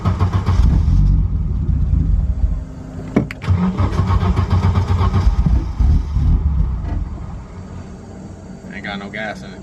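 A 1991 Audi 90 Quattro S2 with a big turbo engine cranks and starts, then runs with a rough, uneven idle up close. It is briefly revved partway through while people talk over it.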